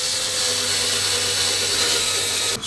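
A power driver runs steadily, driving screws into a wall to fix the mount for a Meco Eleverde 2K smart video doorbell, model J5. It whirs continuously and close up, then cuts off abruptly near the end. No one speaks.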